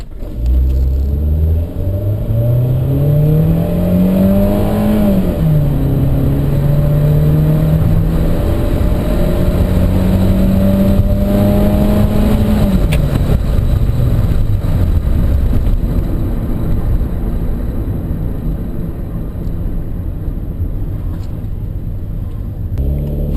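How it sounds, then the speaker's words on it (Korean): A car pulls away hard from a standstill in a deliberate sudden-acceleration test, the engine note rising loud and close through the gears, then easing off, with heavy road and cabin rumble throughout. "지금 제가 임의로 정지 상태에서 급가속을"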